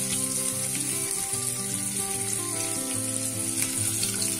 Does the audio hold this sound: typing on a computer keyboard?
no